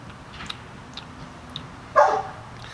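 A single short dog bark sounds partway through, moderately loud against quiet room noise, with a few faint ticks before it.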